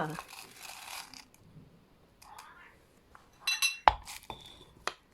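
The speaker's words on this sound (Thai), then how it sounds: "อันดับแรกเราก็มา โขลกพริกก่อนเลยค่ะ" A stone mortar and pestle pounding chilies, worked while seated on the floor in a home kitchen: a few sharp, close knocks and clinks come near the end after quiet stretches with faint rustling.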